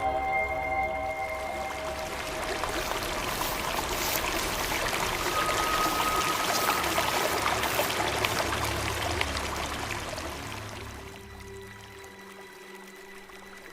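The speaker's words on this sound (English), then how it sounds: "The water lapped gently at his boots" Water laps and trickles at the edge of a lake in a continuous, fairly close wash that swells slightly in the middle and then eases off toward the end.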